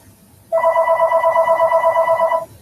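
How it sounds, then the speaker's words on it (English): A telephone rings loudly for about two seconds in a steady warbling electronic trill, starting suddenly and stopping cleanly, heard alone over a low background hum. "I swear that phone's gonna keep ringing all night"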